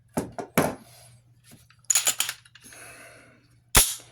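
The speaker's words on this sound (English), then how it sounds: "Here's a mag for it. Ejects the mag." Metallic clicks and clacks come from a PSA Dagger Compact pistol as its magazine is handled and ejected, several sharp close snaps in small clusters with brief quiet gaps, ending on one louder clack.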